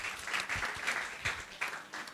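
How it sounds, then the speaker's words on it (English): An audience at a virtual assistant summit keynote claps for a participant, a full, even round of applause from many hands that swells and dips slightly, moderately loud and unbroken by talk. "Please, a round of applause for her."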